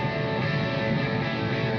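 Electric guitar played through an octave pedal and looped on a Donner Beltway looper, a sustained, dense, droning tone with steady harmonic layers and no pauses, close and fairly loud.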